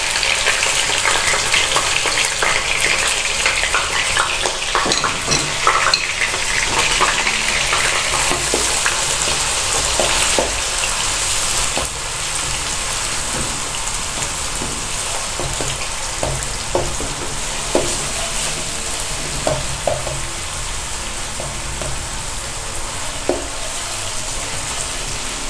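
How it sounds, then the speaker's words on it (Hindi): Two chopped onions frying in three tablespoons of oil in a pan, a loud continuous close sizzle with occasional stirring scrapes and crackles throughout, no talking. "अब हम इसमें हमारे चॉप किए हुए 2 अदद प्याज डालेंगे।"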